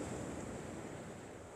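Large sea waves crash against breakwaters along a seaside promenade, giving a continuous loud surf roar with wind noise on the microphone and no voices.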